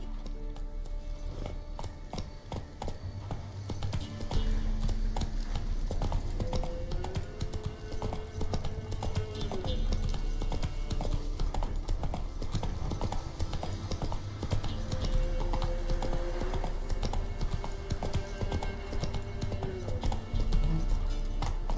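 Hooves of Roach, the horse in The Witcher 3: Wild Hunt, beat out a steady, rhythmic galloping clip-clop over a low ambient bed, with a brief whinny-like tone rising twice in the middle.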